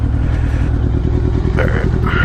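Kawasaki GPz550 motorcycle engine running and revving up briefly, a loud close rumbling idle that rises in pitch near the end.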